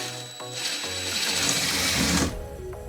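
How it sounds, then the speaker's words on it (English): A small electric drill whirs steadily at close range for about two seconds, then winds down, with no talk over it. "drill bit's going the right way."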